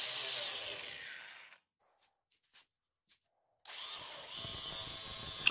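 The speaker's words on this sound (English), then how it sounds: "we're going to clean it up real quick with the wire wheel" A wire wheel on a power tool scrubs bare metal on a car door, a harsh, close hissing abrasion that stops for about two seconds of near silence with faint knocks, then resumes.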